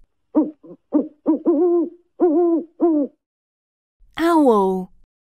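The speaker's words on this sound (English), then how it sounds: "owl" An owl gives a run of short, close hoots in an uneven rhythm, a brief pause, then one longer, rising and falling call.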